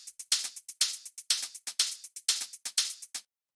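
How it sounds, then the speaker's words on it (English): Hi-hats from a melodic house track tick in a quick, steady pattern of crisp bright hits with short decays, playing alone and fairly quiet, with slightly accented hits in a repeating groove. "So the first thing that I have here are these hi-hats,"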